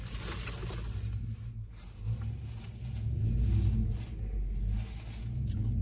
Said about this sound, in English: There's a loud truck for ya.